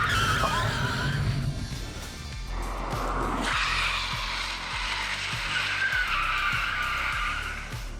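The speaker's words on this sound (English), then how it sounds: "In this situation in a non-ABS car, if you brake way too hard" Tires skid and screech loudly under hard braking, a long harsh squeal over a steady low engine rumble, close by.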